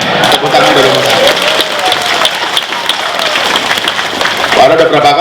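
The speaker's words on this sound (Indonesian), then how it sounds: "Tepuk tangan Darul Mutakin." A hall audience applauds at a religious gathering in Banyuasin, giving loud, dense, continuous clapping from a large crowd that stays steady throughout and sounds close and full.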